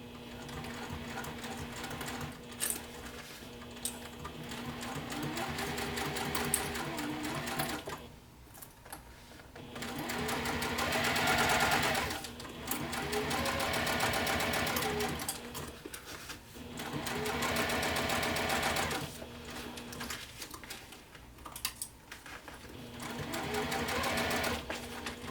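A sewing machine stitching a fabric bag in repeated bursts of fast rhythmic whirring, pausing briefly between runs while the fabric is repositioned around a curve, close and clear.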